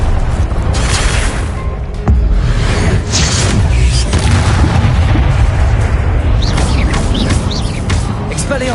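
A Confringo blasting spell detonates in Hogwarts Legacy with heavy booming blasts over constant loud rumbling battle noise, punctuated by sharp bursts and whooshing spell sounds.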